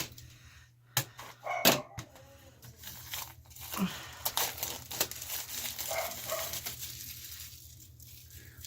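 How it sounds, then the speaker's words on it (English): Plastic wrapping crinkles and rustles as it is pulled off a picture frame, in a few sharp close bursts separated by quieter handling noises, with a low steady hum underneath. "So we're going to take this out of the plastic."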